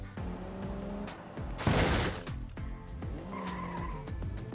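A car crash plays out in the video game BeamNG Drive: tires skid and squeal, a loud impact burst comes mid-sequence, and more scraping and skidding follow.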